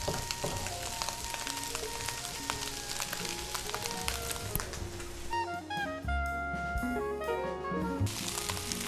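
Chopped crushed garlic frying in a pan for egg fried rice, a dense continuous sizzle with crackling pops and a busy metallic shimmer, close and steady throughout.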